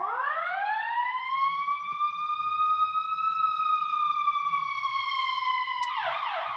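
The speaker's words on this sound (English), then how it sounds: "There's the siren." A single long siren wail rises and holds steady, fairly clear and somewhat distant, then cuts off abruptly near the end.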